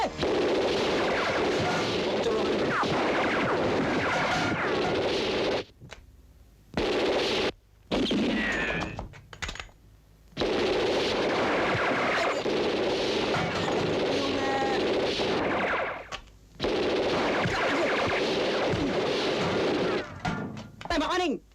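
Gunfire from a 1987 Indonesian Warkop DKI comedy film, with bursts of shots and thumps mixed into dense, loud soundtrack noise and shouting voices, broken by a few brief quiet gaps.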